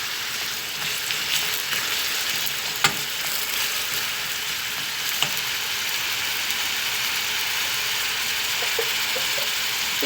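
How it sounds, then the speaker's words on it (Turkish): Onions and cauliflower sauté in a pan with a loud, steady, even sizzle and only a couple of faint utensil taps. "karnabaharımızı şimdi soğanlarını soteliyoruz"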